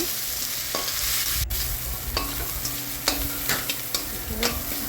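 Rice fried in a pan with shewali flowers, salt and turmeric sizzles steadily up close, broken by sharp stirring scrapes and clicks, with no talk.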